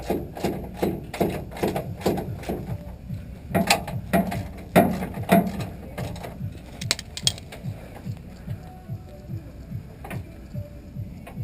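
A socket wrench ratchets in quick bursts of clicking while a rear bumper is unbolted from a 2008-or-later GM Chevy truck, close and fairly quiet, with pauses and some metallic clanks between runs.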